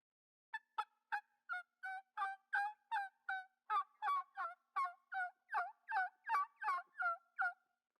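Single or double reed turkey mouth call, a run of about nineteen sharp, high-pitched yelps in quick, even rhythm, clear and close with no talking, a voice imitating a turkey.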